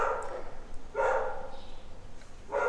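Dogs bark indoors in two or three muffled, moderately loud bursts spaced about a second apart, with no talking over them.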